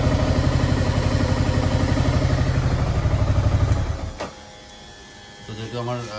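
A Yamaha R15 V3 fuel-injected motorcycle engine idles close by with a steady, rapid pulsing beat for about four seconds, then cuts out abruptly, leaving quieter background sounds and a voice near the end.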